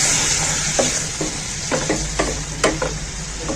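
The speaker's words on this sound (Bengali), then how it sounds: "এবারে আলু ডিম সব দিয়ে দিলাম। এবারে একটু নেড়ে দিলাম।" Potatoes and eggs stirred in a frying pan for egg curry: a loud, steady sizzle with repeated scraping strokes of the spoon at an uneven rhythm.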